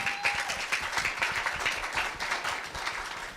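An audience at a middle school speaking festival applauds to welcome the first student speaker, a steady wash of clapping from many hands with no voices over it.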